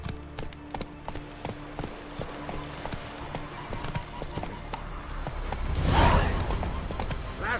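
Roach the horse in The Witcher 3 video game gallops with quick, even hoofbeats close up, building into a louder surge and snort of breath near the end.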